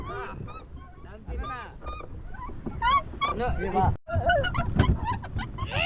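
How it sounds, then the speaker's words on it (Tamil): Ducks on water let out repeated honking calls close by, heard from a boat, while people talk over and between the calls. "இங்க பாத்தீங்கன்னா வாத்துலாம் இருக்கு"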